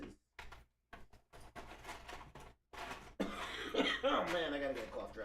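A gamer coughs repeatedly while fumbling with a many-piece puzzle game, a run of short rough bursts near the microphone, then a denser throat-clearing flurry toward the end.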